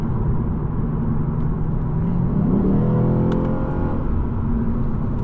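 Lexus RC F Final Edition V8 rumbling steadily from inside the cabin while driving, a dense low drone with a brief rise in revs midway, loud and continuous.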